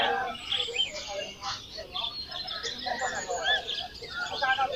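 A bird calls with repeated chirps and whistles, moderately close, over a background of people talking.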